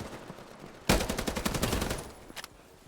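A sustained burst of Thompson submachine gun fire from a competitive shooter video game, rapid and dense for about a second before trailing off into a few scattered shots over low background ambience.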